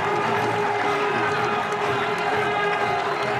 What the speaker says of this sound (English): Cries of easy in the crowd